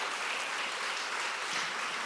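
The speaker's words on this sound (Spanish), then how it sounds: "Dar un aplauso fuerte a ese Dios que nos ayuda a seguir." Congregation applauding during a church service, a steady wash of dense clapping that fills the short moment at moderate, somewhat distant loudness, with no voices on top.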